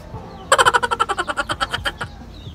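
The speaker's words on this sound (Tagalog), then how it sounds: "Naglalaban na yung dalawang manok natin." Two roosters fighting: a rapid, rhythmic burst of harsh squawking calls, about fifteen pulses in under two seconds, loud and close, over a quiet background.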